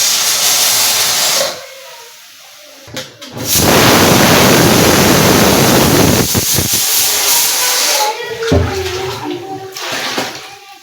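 A pressure cooker with lentils, garlic and green chillies inside hisses loudly with steady bursts of steam, dropping briefly and then resuming in a long continuous rush.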